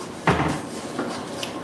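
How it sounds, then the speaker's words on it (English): A single clatter as a metal cookie sheet is pulled from a cupboard, followed by softer rattles and a light knock, close by. "I'm just grabbing another cookie sheet."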